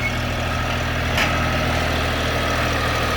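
A Shifeng 244 tractor engine idles steadily and close by, a constant low diesel rumble with a faint brief knock partway through.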